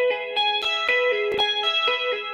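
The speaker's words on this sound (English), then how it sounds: "it sounds kind of neat with a clean setting, maybe a little echo or a little chorus on there" Electric guitar plays a two-hand tapping pattern through a clean tone with echo and chorus, bright sustained notes with sharp attacks repeating in a steady loop, no voices.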